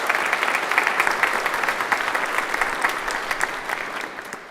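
A crowd at a church service claps steadily, a dense ripple of applause holding strong throughout.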